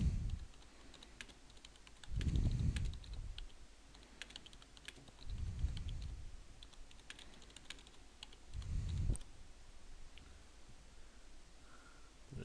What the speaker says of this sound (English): in this text box I'm just going to key in a little description